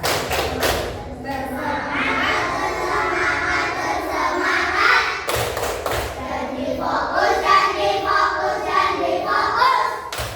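A class of schoolchildren claps a rhythmic focus chant in a classroom, bursts of loud hand claps and thuds mixed with children's voices, pausing midway before a second round.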